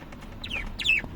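A chicken-like bird gives two short, close clucking calls in quick succession over a quiet background.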